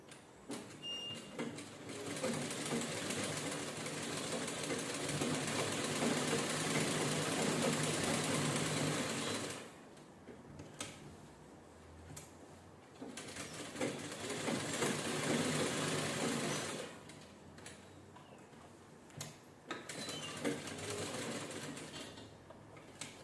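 Sewing machine stitching a canvas strip around the front neckline of a princess-cut blouse, steady mechanical whirring in two long bursts separated by quieter pauses with faint handling sounds.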